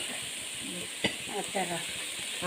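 Ginger and garlic sizzling with onions in a hot pan for a Naga chicken curry, a steady crackling fry with a sharp stirring clack partway through.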